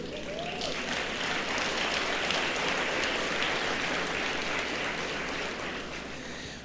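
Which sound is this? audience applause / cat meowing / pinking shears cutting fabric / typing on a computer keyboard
audience applause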